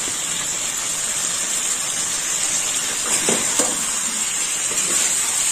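Chopped banana blossom, washed and drained but not boiled, sautés with chicken in a pan, giving a steady, fairly loud sizzle with a few brief stirring scrapes near the end.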